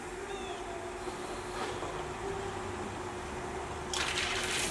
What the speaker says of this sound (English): Turn on the cold water on the garden hose, and we'll start chilling.